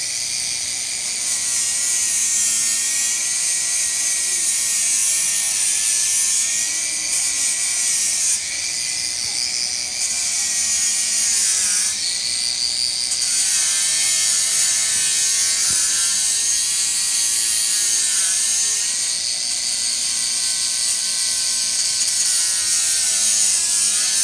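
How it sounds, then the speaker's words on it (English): Power grinder grinding rust down to bare metal on a car body near the auto glass, a loud, continuous, close-up whirring grind holding steady for the whole stretch with slight shifts in pitch as the disc works the surface. "As you can see, it grinds down to bare metal very"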